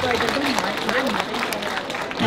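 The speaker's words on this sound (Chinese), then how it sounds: "掌声响起。" Audience applause at a Chinese event on desert sand-industry investment, a dense wash of clapping mixed with crowd murmur and a voice speaking over it throughout.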